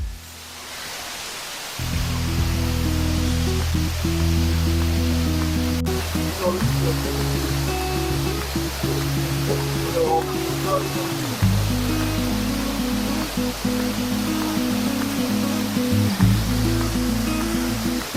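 Arrikal Waterfall roars in a constant, broad rush of falling water, loud and close, with a deep droning hum layered underneath and shifting in steps throughout.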